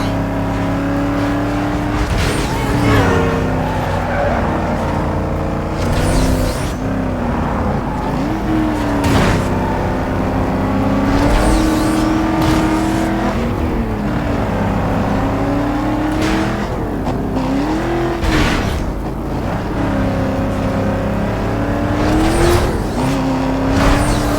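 A Chevrolet Camaro SS races flat out in Need for Speed Most Wanted, its engine note rising and falling through repeated gear shifts, loud and continuous with brief tire squeal.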